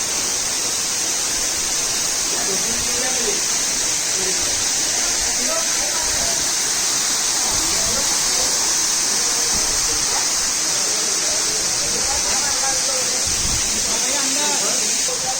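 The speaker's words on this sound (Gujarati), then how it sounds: "બહુ ઊંચેથી પાણી પડે." Medha waterfall in the forest near Songadh, water falling from a great height as a continuous broad roaring hiss, steady and loud throughout, with people talking intermittently over it.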